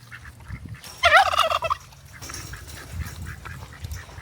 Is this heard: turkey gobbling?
yes